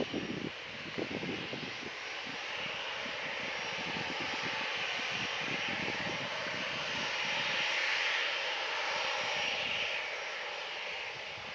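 EasyJet airliner jet engines at Manchester Airport, a continuous broad roar that swells gently and holds steady, heard from a distance with no talk.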